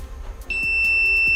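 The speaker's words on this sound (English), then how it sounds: "you're going to get a sound coming out of the blowhorn" An alarm sounds from the blowhorn of an OWI Robotics dexterity game: a steady, piercing electronic tone switches on partway through and holds loud and continuous to the end, after a few faint clicks.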